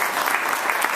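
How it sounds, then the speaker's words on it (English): Audience applause at an evening talk, a short, close wash of many hands clapping that lasts about a second. "So I think we have to give Jenna a little round of applause,"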